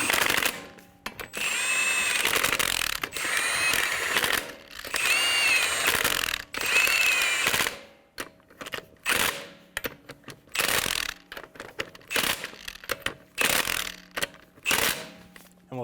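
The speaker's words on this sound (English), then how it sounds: "Snug down the lug nuts." A ratchet snugs down lug nuts on a 2007-2011 Toyota Camry wheel. It starts with a long run of dense, fast clicking, then breaks into shorter bursts of ratcheting and gaps of quiet, all close by and without talk.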